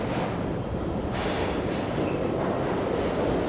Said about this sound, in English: I think the train is coming on this side.